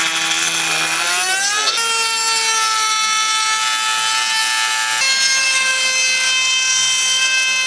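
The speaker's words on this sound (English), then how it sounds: "So I was cutting into it, now Calvin's cutting into it, and hopefully" A cutting tool bites into a metal seat mounting bracket while racing seats go into a Mazda Miata. It gives a loud, continuous, shrill ringing whine that drops in pitch early on and then holds steady close by.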